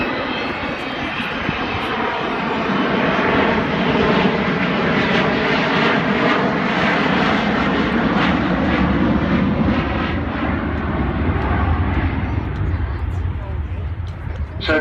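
The Avro Vulcan XH558 jet bomber flies a full display at Southport airshow, its jet roar swelling and fading over about fifteen seconds while a commentator speaks over the public address.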